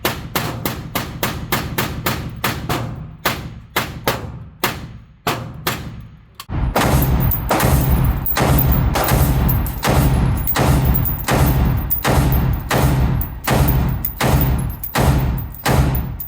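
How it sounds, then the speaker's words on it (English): Shots from an FN P90, a Beretta M9 and a Springfield Hellion ring out at an indoor shooting range, starting as sharp single reports and then turning into a dense run of rapid, loud, overlapping gunfire. "We ended up shooting 150 rounds through the P90, like 5 or 6 mags through the Beretta M9, and we rented a Hellion."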